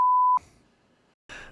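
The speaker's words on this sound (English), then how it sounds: "You're going to have to beep this." A steady, loud censor beep lasts about a third of a second and then cuts off abruptly, followed by near silence and then a brief burst of noise.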